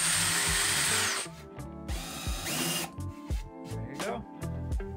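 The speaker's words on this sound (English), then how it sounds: "especially since we're drilling on the end" A power drill bores pilot holes into the end grain of cedar boards, whining in short high-pitched bursts. Between the bursts come lower revving and several sharp knocks and clicks close by.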